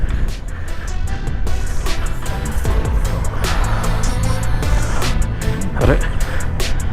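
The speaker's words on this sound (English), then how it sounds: "There's an entire gang of motorcycles coming this way" Group of motorcycles on a rough off-road mountain track in Ladakh rumbles past close by, engines droning continuously with wind buffeting and rattling over the noise.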